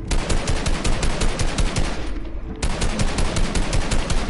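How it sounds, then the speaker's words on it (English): Video game gunfire, a fast, steady automatic rattle of close, loud shots that briefly drops away before the burst resumes. "What are you shooting at me for?"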